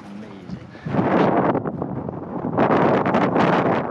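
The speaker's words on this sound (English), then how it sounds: "There's that wind again." Wind gusting across a cafe rooftop in Tataouine, Tunisia, a loud, broadband rushing roar that swells strongly after the first second and again near the end, with faint voices underneath.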